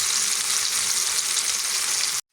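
Round chillies and garlic sautéing in a hot pan, a dense, steady sizzle that stays loud and even throughout with no voices, then cuts off abruptly at the end.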